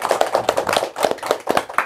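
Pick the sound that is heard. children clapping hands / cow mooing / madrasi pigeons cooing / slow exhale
children clapping hands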